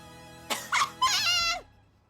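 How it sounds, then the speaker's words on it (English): A few short, raspy coughs close to the mic, the last one drawn out and strained, with no talking around them. "That made me cough on my own."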